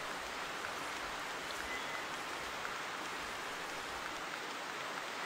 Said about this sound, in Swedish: Jag tror det är fjärde eller femte gången faktiskt som det regnar nu när jag har gått den här lilla biten.